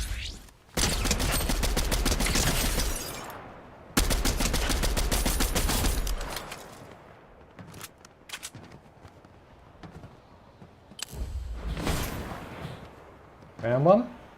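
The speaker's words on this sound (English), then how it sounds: "More shooting over here somewhere." Video game gunfire: long, loud bursts of rapid automatic shots come in two sustained volleys, then shorter scattered bursts follow, with brief quiet gaps between them.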